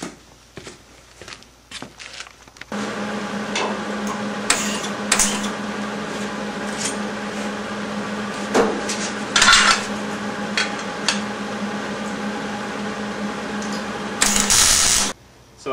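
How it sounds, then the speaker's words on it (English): A stainless steel rocker panel is tack welded onto a CSX rally car. After a few faint knocks, a steady, close crackling electric buzz runs for roughly twelve seconds, with brief sharper flares, and no one speaks. "I'm ready to tack weld it on"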